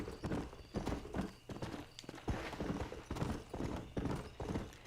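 A horse's hooves clip-clop in a steady walking rhythm in the video game Red Dead Redemption, quiet and fairly even, with no talk over them.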